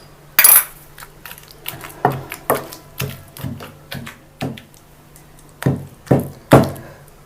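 Tamarind and tomato chutney pounded with a stone pestle in a mortar, giving a series of sharp, irregular knocks and grinding thuds at close range, with short pauses between strokes and no talking.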